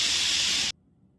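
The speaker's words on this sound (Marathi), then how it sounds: "आता कुकरच्या आता तीन शिट्ट्या करून घेणार आहे" A loud, steady hiss of steam rushing out of a pressure cooker cooking soaked dal, cutting off abruptly partway through and leaving near silence.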